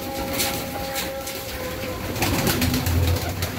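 Several pigeons coo in low, overlapping calls amid a steady background of rustling and movement, with some wing flutters close by.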